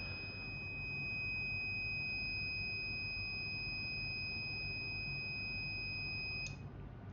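A buzzer on an Arduino Uno temperature alarm for a poultry farm, driven by an LM35 sensor, holds a steady two-tone electronic whine over a broadband hiss, then cuts off abruptly near the end.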